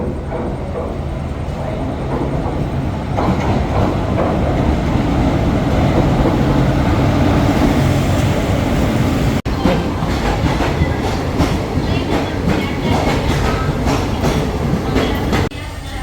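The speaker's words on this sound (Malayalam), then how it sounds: "അരമണിക്കൂർ ലേറ്റായി ഗായ്സ് ഞങ്ങളുടെ ട്രെയിൻ വന്നു" A passenger train arriving at a station near Palakkad, rumbling loudly and continuously with clattering wheels and faint squeals close by, and some faint voices under the noise.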